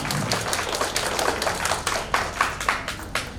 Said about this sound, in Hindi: कृपया एक बार जोरदार तालियों से इनका स्वागत कीजिए